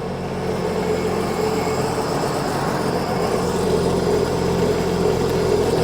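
A personal watercraft engine idles steadily and loudly while being run up to temperature during winterizing, a constant droning hum with no talk.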